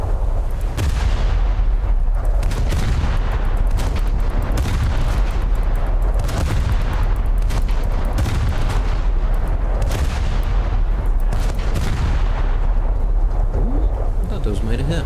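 Naval guns firing at a destroyer during a War Thunder naval battle: repeated heavy booming blasts at a steady pace over a continuous low rumble, loud and close throughout.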